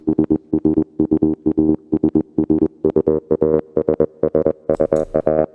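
Moog Sub 37 synth line for a techno/trance track, fast staccato pulses in a steady rhythmic pattern, bright and buzzy, with the filter cutoff and resonance shifting as it plays, loud and up close.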